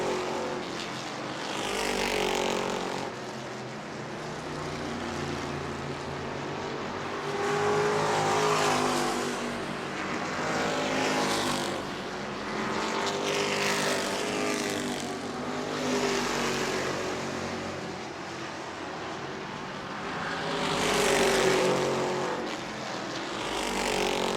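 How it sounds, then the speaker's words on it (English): Race cars roar around the short oval at New Smyrna Speedway during a World Series event, engines swelling and fading in repeated passes as the pack goes by, loud and continuous with no talk. "might be a tire rev on the Spears machine that's causing all that smoke when it goes in the corner"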